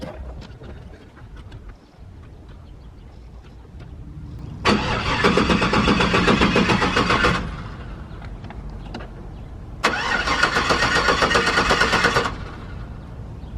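A truck engine cranks over twice after a fuel pump install, each loud starter-and-engine burst lasting about two and a half seconds with a short pause between, against a quiet background.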